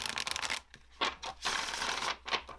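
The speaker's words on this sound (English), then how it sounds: "Shuffles like a dream." Cards from a Hellenic oracle expansion deck being shuffled, heard as repeated close, soft papery riffles and slides in uneven bursts, faint overall and without speech.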